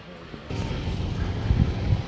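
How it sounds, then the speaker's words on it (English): A distant A-1 Skyraider propeller aircraft gives off a steady, broad engine drone that holds evenly through the moment at an airfield. "And over in the distance over there is a A-1 Sky Raider."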